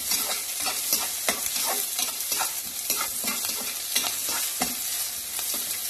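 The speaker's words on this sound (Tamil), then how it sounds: "இது நல்லா அந்த ஆனியன் வந்து பச்சை வாசனை போய் அந்த ரெட்டிஷாக வர வரைக்கும் வதக்கணும்" Sliced onions sauté and sizzle steadily in a hot pan for Tamil dal powder rice, with a continuous close frying hiss broken by regular scraping stirs and no talking.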